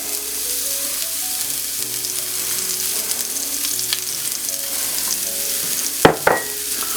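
A shallot sizzles steadily in a pan alongside pork chops over medium-low heat, a continuous bright frying hiss with a couple of sharp clatters near the end, no voices.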